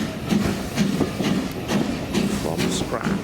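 An LBSCR H2 Atlantic steam locomotive, Beachy Head, runs with a train in rhythmic rail clatter and rumble heard from a carriage behind it, with a voice talking over it.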